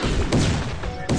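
An explosion goes off in the Android tower-defense game Guardian Spirit TD, a loud, dense blast made of booming bursts and heavy thuds. It is followed by a brief second impact near the end.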